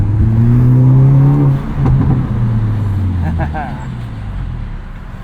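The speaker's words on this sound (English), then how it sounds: "Let's listen to this exhaust" A 2022 Hyundai Elantra N with a manual gearbox revs its exhaust while driving through an overpass, a loud droning engine note with a falling pitch, heard close from inside the car.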